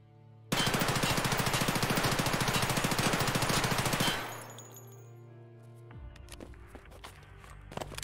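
An MPX submachine gun in Escape From Tarkov fires one long, loud, rapid full-auto burst lasting about three and a half seconds, then the shots ring off into quiet with a few faint footsteps and clicks.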